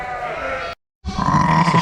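An agitated ewe bleating loudly and close during lambing season, two long wavering calls separated by a brief silence.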